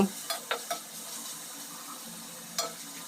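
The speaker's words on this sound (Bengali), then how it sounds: "পেঁয়াজ আর মরিচ একসঙ্গে ভালো করে নেড়ে চেড়ে লাল লাল করে ভেজে নিব" Chopped onions and green chilies fried and stirred in oil make a soft, quiet sizzle, with a few sharp utensil scrapes and clinks against the pan near the start and again toward the end.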